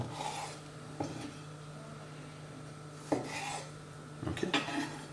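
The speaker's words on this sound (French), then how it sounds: "Les tomates, on va les couper en 4," Knife cutting tomatoes into quarters on a board in a kitchen, faint and close, with a few sharp taps and soft scraping strokes spread irregularly, no talking.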